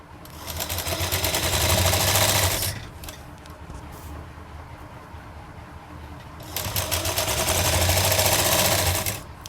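A sewing machine stitches piping onto a sleeve in two loud, fast whirring bursts of a few seconds each, separated by a quieter pause with only low hum and small handling noises.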